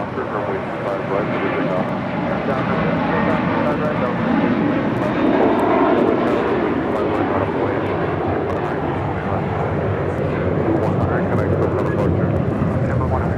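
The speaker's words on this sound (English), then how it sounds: "This is JetBlue, Flight 100, taking off to Fort Lauderdale on an A321." A JetBlue Airbus A321 airliner takes off, its engines roaring in a steady, broad, powerful rumble that stays loud throughout, with a voice talking over it.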